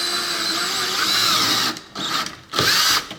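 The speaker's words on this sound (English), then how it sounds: "pre-drill these other screws" A power drill with a 1/8 inch bit bores pilot holes for screws while installing a Larson storm door, loud and close, whining steadily with two brief pauses between bursts.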